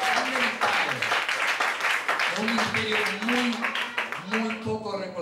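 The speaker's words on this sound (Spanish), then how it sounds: "Vamos a dar un aplauso, hermano." Applause in a church congregation, dense continuous clapping throughout with musical tones and voices blending underneath, steady and fairly loud.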